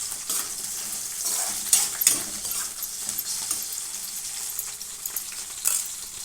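Onions frying in a pan for tomato pachadi, a bright continuous sizzle with scraping stirs and light metallic clinks of a utensil, close and fairly loud, no talking.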